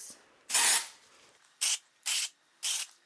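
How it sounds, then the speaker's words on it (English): Batiste dry shampoo aerosol sprayed onto the hair roots: four separate hissing bursts, the first longest, then three short even sprays in a steady rhythm, close and clear with no talking. "Spray the roots"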